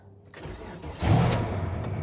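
A car engine that had not been started in over three weeks cranks and catches, then settles into a steady, fairly close rumble.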